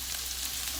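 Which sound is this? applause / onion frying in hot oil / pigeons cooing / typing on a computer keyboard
onion frying in hot oil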